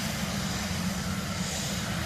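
Propeller aircraft N219 built by PT Dirgantara Indonesia, heard as a continuous droning engine roar with a low throbbing hum, steady and fairly close, with no voices over it.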